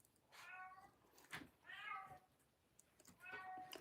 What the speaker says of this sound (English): He has a stronger meow than Toby does